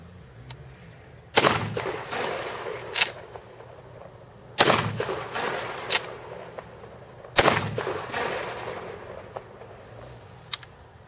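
Shotgun fired single-handed during an arm-down drill, three loud booming shots spaced a few seconds apart, each followed by a short echoing tail and faint mechanical clicks, close with no talk.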